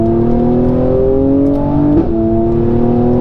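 A 2019 Mercedes-AMG C43 Coupe with a performance exhaust revs steadily with a deep, throaty exhaust drone, pitch climbing gradually before dipping briefly, loud and close throughout.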